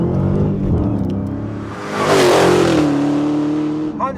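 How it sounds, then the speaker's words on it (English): A 707 bhp supercharged Hellcat accelerates hard, heard from inside the cabin; the engine roar climbs steadily and a rising supercharger whine peaks loud before easing into a sustained high tone. "You just hear that supercharger whine dominating the cabin."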